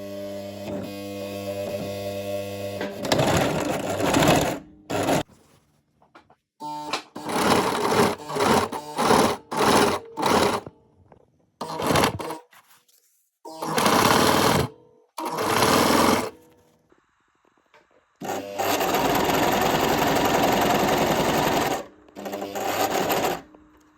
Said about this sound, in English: I was sewing this shut so the seams were nice and covered up